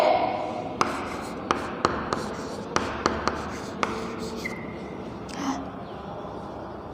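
Pen or chalk strokes tap and scratch in a quick irregular series during a grammar lesson in a classroom, a few sharp knocks standing out over a quiet room.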